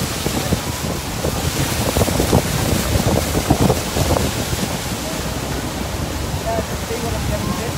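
Tour boat on the Niagara River, heard as constant loud wind buffeting the microphone over rushing water and engine rumble, with a voice partly present underneath.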